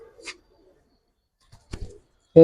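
Khaki Giribaz pigeons cooing: a few short, soft low coos separated by silence, close by, ending with a sudden louder sound.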